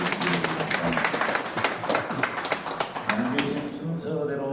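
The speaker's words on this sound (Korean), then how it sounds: "한번 박수로 협력 환영해 주시기 바랍니다" Audience clapping for two visiting speakers, professors of historical theology, at a Seoul press conference opposing the 2025 WEA general assembly; dense, steady applause from a room of people lasting several seconds and thinning at the end.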